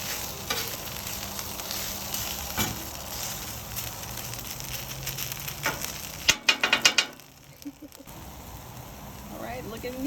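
Hamburgers and hash potatoes sizzle steadily on a grill, a constant frying hiss with a few sharper crackles and clatters near the middle, while a person talks quietly at times.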